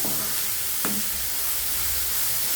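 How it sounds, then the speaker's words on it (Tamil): Banana stem curry stirred in a hot pan, a steady close sizzle and hiss with one brief scrape of the spoon partway through. "இதை போட்டு நல்லா கிளறி விட்டுட்டு"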